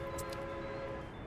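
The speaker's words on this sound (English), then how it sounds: "And this train did unload all the cement wagons. And now it can go." A train in the Workers and Resources video game pulls away after unloading cement wagons, giving a steady low rumble with a faint sustained tone, heard alone and fairly quiet for about a second.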